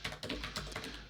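Quick burst of keystrokes on a computer keyboard, several close, crisp taps in about a second, with no voices.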